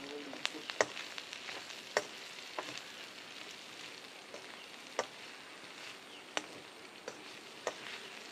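Chopped capsicum stir-frying in a pan for chicken chow mein, a steady low sizzle broken by scattered sharp clicks and taps of a utensil against the pan, fairly quiet and with no voices.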